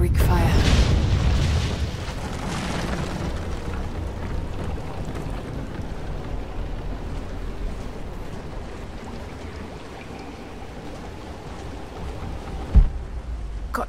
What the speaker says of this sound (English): Looks like I'll have to use the Greek fire.